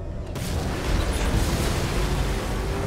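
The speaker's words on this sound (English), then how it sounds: "The explosion disabled the main cannon." Explosion in Batman Arkham Knight: a sustained, loud rumbling blast with heavy low-end roar that swells after a brief onset and holds steady without talk.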